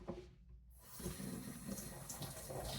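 Tap water runs steadily into a sink while a paring knife is rinsed after sharpening, a close continuous splashing stream that briefly thins near the start and then flows on unbroken.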